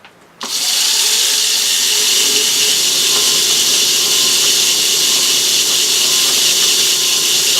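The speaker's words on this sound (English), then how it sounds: "I'm just going to stick my lathe on and just see what speed that goes, because that is one heavy old chuck" A lathe spins up a heavy old HBM 125mm self-centring three-jaw chuck, a loud, steady motor whine and whirr that kicks in after a brief quiet moment and holds an even pitch throughout, with no talking.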